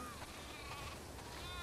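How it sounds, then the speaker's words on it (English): Sheep bleat in The Last of Us Part II, a faint, wavering animal cry with a few drawn-out calls over a steady low background hum. "We definitely have way too many sheep."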